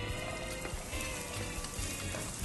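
Onions stir-frying in a hot wok for a lemon shrimp dish with satay sauce, a steady crackling sizzle filling the whole stretch at moderate loudness with a low background rumble.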